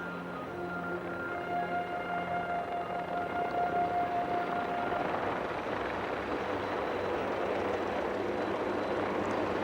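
A helicopter flies along the rim of Wolf Creek crater in Western Australia, giving a steady, sustained engine and rotor drone with a tonal whine that fades partway through.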